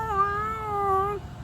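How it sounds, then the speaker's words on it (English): A single cat lets out a long, drawn-out caterwauling yowl at night, a steady tonal wail that holds for about a second before cutting off, loud and close. "You ever hear cats at night?"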